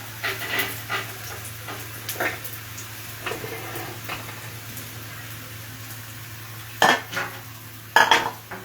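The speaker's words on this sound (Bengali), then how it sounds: "এই ছোট কড়াটায় দিয়ে দিলাম এইটা। সামান্য এটা একটু নেড়ে নেবো" Food stirred in a small kadai, light metallic scrapes and clinks over a faint sizzle and low hum, ending in two sharper utensil knocks against the pan.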